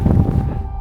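Strong wind on a freezing mountaintop in Lapland buffets the microphone with a dense, low rumbling roar. The gust is brief and eases slightly toward the end.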